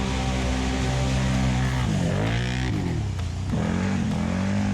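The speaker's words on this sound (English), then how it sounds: "And you're just spinning your wheels." A stuck ATV's engine revs loud and steady, pitch rising and dipping as its wheels spin, with no talk over it.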